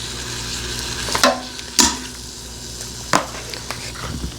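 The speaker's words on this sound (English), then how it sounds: "Deglaze the pot with the onions." Onions go in with browned pot roast meat in an Instant Pot on the sauté setting, giving a steady sizzle broken by a few sharp scraping knocks of a utensil against the pot.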